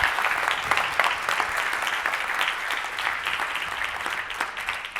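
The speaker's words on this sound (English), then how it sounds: "please give a big applause to Kevin M. Yates." Audience applause for a speaker at a talk on impact measurement: many hands clapping in a steady, moderately loud patter for about five seconds, with individual claps audible in the mix.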